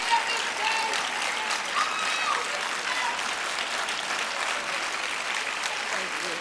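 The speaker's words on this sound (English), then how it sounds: "So anyway, just give Valerie a round of applause." Audience applause for a school teacher at a city State of the City address, a dense, continuous wash of clapping from a large crowd, fairly loud and steady throughout with a few faint voices mixed in.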